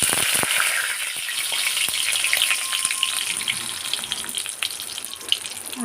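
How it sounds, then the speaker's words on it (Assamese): Two bay leaves sizzling in hot oil in a pan, a steady loud crackling hiss that continues alone without talk. "তেলখিনি গৰম হৈছে, এতিয়া মই ইয়াত তেজপাত 2 খিলা দি দিলোঁ।"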